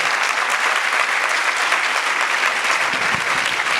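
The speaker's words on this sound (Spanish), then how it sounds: "pido que le regalemos un aplauso antes de comenzar" A lecture-hall audience at a literary talk breaks into loud, continuous applause. Dense clapping holds steady and close for several seconds, and a few louder individual claps stand out near the end.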